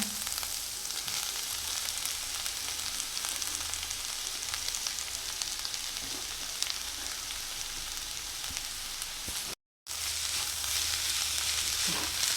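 Carrots sizzling and frying in a pan with fenugreek leaves, a steady close crackle and hiss throughout with a brief break near the end.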